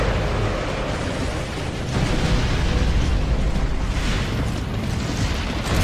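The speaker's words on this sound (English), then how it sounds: "Mortars! The grubs are gonna flatten that house if we don't stop them." Mortar shells exploding in the video game Gears of War: Judgment, a loud, continuous wall of rumbling blasts and roaring debris that swells slightly midway and never lets up.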